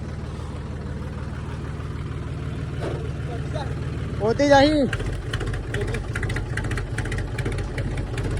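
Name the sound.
tractor engine idling in neutral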